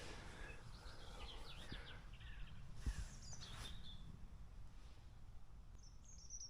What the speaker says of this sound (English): the very distant sound of a jet, and just birdsong here